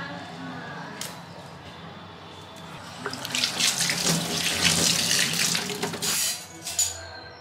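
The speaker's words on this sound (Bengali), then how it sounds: "লাল শাকটা ধুয়ে নিলাম" Red amaranth leaves are rinsed under a running kitchen tap, water splashing steadily and growing louder midway with sharp spattering bursts, fairly close.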